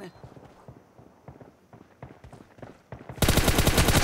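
Gunfire in the mobile shooter PUBG Mobile: scattered thumping shots at first, then a loud, rapid automatic burst in the last second.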